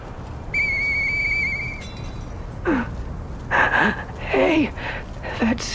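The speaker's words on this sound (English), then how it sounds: "I know that whistle." A clear, steady whistled note sounds for about a second in the Lies of P video game, followed by higher wavering tones, with a character's voice and other game sounds after it.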